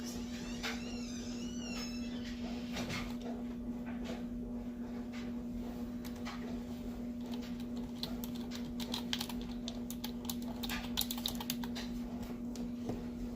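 Typing a name on a computer keyboard, a steady run of quick, light key clicks close by over a constant low electrical hum, with a faint whistle-like tone near the start.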